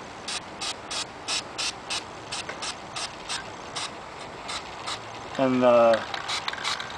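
Krylon Glossy Classic Gray spray paint sprayed into the recessed areas of clone trooper armor belt boxes, heard as a series of short hissing bursts in quick rhythm, with a brief spoken word near the end.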